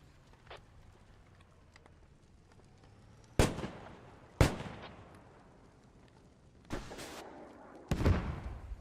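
A TOW missile launches in the tactical shooter Squad amid a distant battle: several sharp, loud blasts with echoing decays ring out at irregular intervals over faint background ambience, with no talking.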